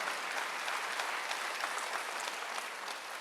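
A congregation claps at a midweek church service, a continuous and fairly soft wash of many hands that holds steady throughout, with no voices on top.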